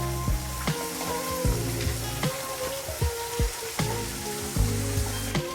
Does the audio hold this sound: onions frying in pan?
yes